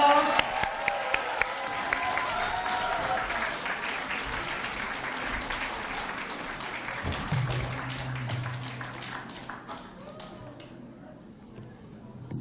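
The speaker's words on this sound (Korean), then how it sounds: "우리 박수로 참여해 주세요." Audience applause fills a hall at an academic symposium on healing counseling: dense, steady clapping that gradually thins and fades, with a voice emerging near the end.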